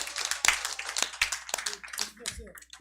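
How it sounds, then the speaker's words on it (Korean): Scattered hand claps from a small audience at a lecture, light and uneven, mixed with voices talking over them. "수고해주신 두 분께 큰 박수 부탁드리겠습니다"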